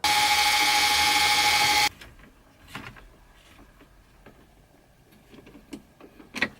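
A power drill whines loudly and steadily for about two seconds while boring a hole during work on a Jeep Wrangler, then cuts off, leaving faint handling clicks and knocks.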